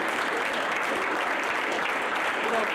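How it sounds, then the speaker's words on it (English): An audience at a college exercise science senior symposium applauds a graduating student in a dense, continuous burst of many hands clapping together, even and sustained throughout. "let's give her a round of applause for that"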